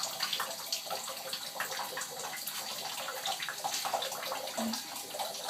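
An Amazon green parrot bathes in water, with steady close splashing and trickling that runs throughout at a moderate level.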